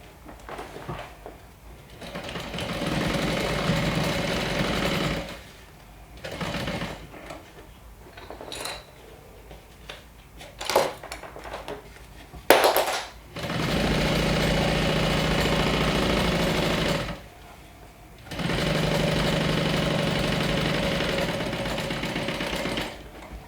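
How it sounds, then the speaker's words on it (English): A sewing machine top stitches a seam allowance in bag interior assembly, running close and steady in several sustained bursts, with quieter handling, clicks and pauses between runs. "So I'm going to top stitch the seam allowance up exactly like we did for the exterior part."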